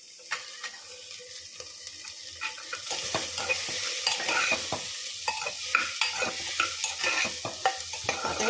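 Carrots and beans are stir-fried in a pan for vegetable soup, quiet scraping and stirring taps at first, then a louder steady sizzle with repeated spatula knocks, close up and without speech.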